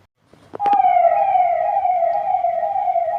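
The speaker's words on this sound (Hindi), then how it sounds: "पता नहीं यार क्या हो गया किसी को, पुलिस है या फिर एम्बुलेंस, समझ नहीं आ रहा मुझे।" A police or ambulance siren passes outside, one loud sustained wail that swells up quickly and then holds with a slowly falling pitch, heard alone.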